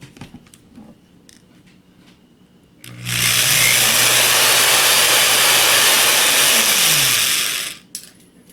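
Wire spun to twist a coil, its far end held in pliers: a loud, steady high-pitched motor whir that starts abruptly, holds for about five seconds and then winds down, with no talk.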